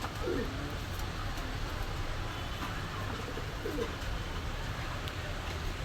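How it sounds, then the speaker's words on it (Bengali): Soft cooing of racer pigeons, a couple of low murmuring calls rising faintly over a steady background hum. "খুব সুন্দর কোয়ালিটির রেসার কবুতর"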